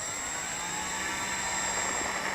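A Dynam BF 110 model airplane's electric motors hold a steady, loud whine under throttle, continuous with a slight rise in intensity.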